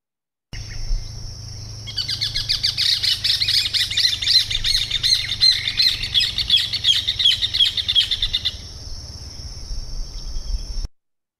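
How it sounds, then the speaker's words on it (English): A rufous hornero in Argentina gives a loud, rapid, continuous chattering call of fast repeated shrill notes lasting several seconds, close and dominant over a steady insect-like hum. "I want you to listen to this Hornero's call"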